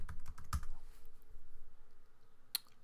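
Someone types a login on a computer keyboard to open a MySQL database tool, quick close key clicks in a short burst, a pause, then one sharp final keystroke, faint and alone with no talk.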